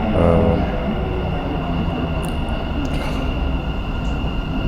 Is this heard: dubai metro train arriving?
yes